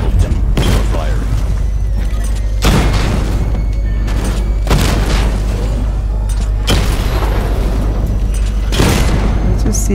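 Weapon fire in the Batman: Arkham Knight video game, with heavy booming blasts repeating about every two seconds over a continuous low mechanical rumble.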